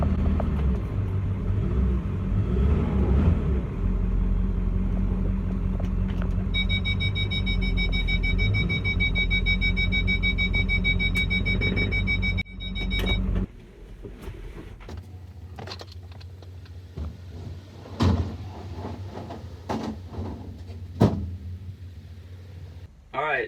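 A diesel truck with an 8-inch smoke stack rumbles loudly at close range, a deep steady drone that drops abruptly partway through to a quieter idle with clunks and knocks, while a person talks over it.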